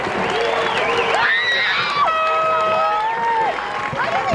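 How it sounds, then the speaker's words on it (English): Crowd at a 1993 high school football game at North Hunterdon High School giving a healthy round of applause and cheering, steady and fairly loud, with whistles and shouts mixed in. "It's a healthy round of applause from the crowd."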